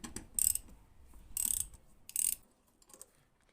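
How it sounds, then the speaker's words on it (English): A ratchet fitted with an extension and a 10mm socket breaks a bolt free, giving three sharp metallic clicking bursts close by, followed by quieter ticking, during a spark plug replacement. "We'll take our ratchet and we'll break it free."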